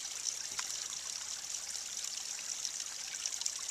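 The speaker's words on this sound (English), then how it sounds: "It's pretty much the only waterfall in this forest." Waterfall in a forest spilling over rocks, a steady, even hiss of flowing water close by, with no voices and no break in the sound.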